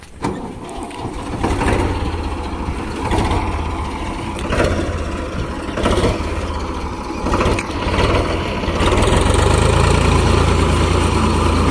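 A tractor engine, stuck in a farm field, revs up in repeated surges, roughly every one to two seconds, then settles into a loud, steady, low rumble near the end.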